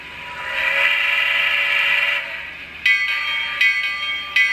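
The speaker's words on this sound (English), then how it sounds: "Number 3 seems to be the bell." A bell on a brass Sn3 model steam engine rings in a sustained metallic tone, then sounds again in short repeated clangs, loud and close with no talk.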